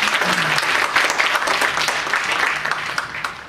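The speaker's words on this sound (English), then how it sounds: "So let's all give Shawnee a big round of applause for the beautiful background." A concert audience bursts into steady, dense applause for the person behind the background, many hands clapping loudly and evenly for a few seconds with no voices standing out.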